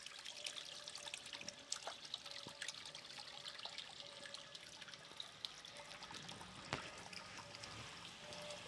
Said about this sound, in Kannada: ಪೈಪ್ ಹಾಕಿ ನೀರು ಬಿಡ್ತಾ ಇದ್ದೀವಿ.